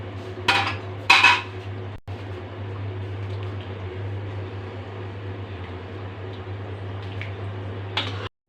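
Potato curry is served from a pot into a dish: a few sharp clinks and scrapes of a spoon against metal come near the start and again at the end, over a constant low kitchen hum.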